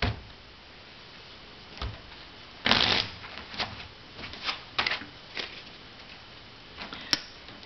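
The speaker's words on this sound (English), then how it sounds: "So at this point, the dealer's going to shuffle." A dealer shuffling playing cards at a casino table, a series of close crisp riffling bursts and soft card slaps spread unevenly over several seconds, with no talk.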